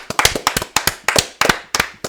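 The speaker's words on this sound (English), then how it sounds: "Let's give it a round of applause." A small group claps for a sports show episode, sharp, close claps landing in loose bursts about every quarter second, loud and uneven.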